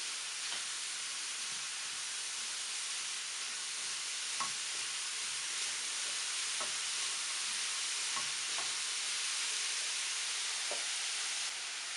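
Steady sizzling of apples frying with sugar in a pan, with soft intermittent scraping and clinks of stirring throughout; no voices.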